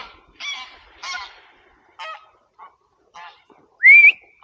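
Several geese honk in a loose series of short, nasal calls, ending in one louder, rising call close by, with no talk over them.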